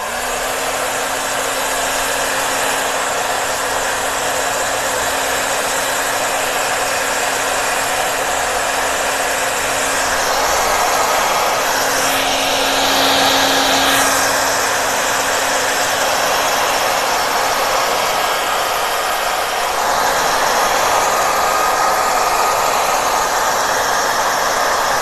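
A hair dryer drying paint on a decorated box, giving a steady, loud whooshing blow that runs continuously with slight shifts in tone and no talking.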